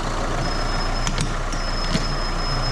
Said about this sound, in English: I'm going to let that engine get up to temperature, let the oil get nice and warm